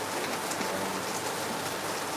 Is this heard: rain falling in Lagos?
yes